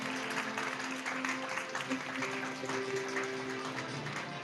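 Students applaud at an award ceremony, a dense sustained round of clapping from a large crowd with faint voices and a hum running underneath.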